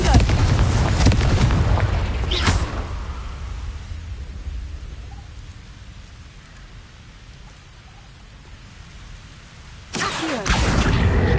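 Fiery Confringo and Incendio spell explosions from Hogwarts Legacy burst loud and roaring at the start, fade into a low rumbling lull, then erupt again near the end.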